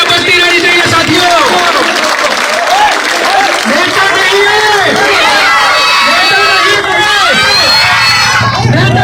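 A crowd at a rural political rally in a village claps and cheers continuously, a dense, loud wash of applause with shouting and excited voices throughout.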